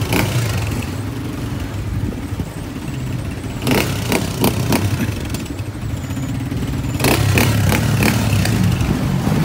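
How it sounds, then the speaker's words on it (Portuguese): Several motorcycles rev and pull away together on a group ride, a steady low engine drone with louder bursts of throttle rising and falling over nearly ten seconds. "saindo várias motos, conseguimos juntar aí"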